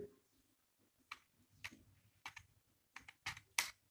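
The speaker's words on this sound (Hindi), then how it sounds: "जैसे यहाँ पे हम अपनी टाइपिंग कर रहे हैं, यहाँ पे कीबोर्ड में देख पा रहे हैं।" Keys clatter on a keyboard connected to a mobile phone, with a handful of separate taps and clicks coming at an uneven pace, close and fairly quiet, the last few strokes sharper than the rest.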